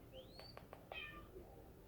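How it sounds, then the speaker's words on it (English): A cat meows faintly in a quiet room, one rising, drawn-out call followed by a few shorter soft mews, distant and alone with no talking. "Did you hear the meow?"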